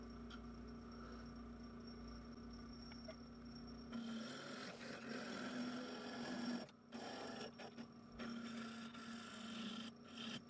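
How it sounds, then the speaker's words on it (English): Oak blank being shaped on a wood lathe with a 15mm skew chisel: a low motor hum, then a sustained raspy cutting scrape with brief gaps as the tool lifts and returns, close and fairly quiet. "I'm going to start shaping it with my 15mm skew"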